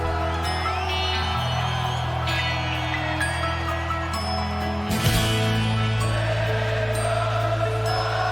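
A live concert crowd at Wembley singing along in tune: a massed chorus of voices carrying the melody with the band, steady and full, with a sharp swell of cheering partway through.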